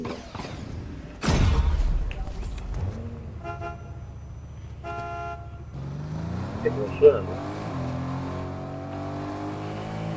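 Car engine and horn in Fortnite: a sharp honk bursts out, then an engine revs and hums under casual talk between two players.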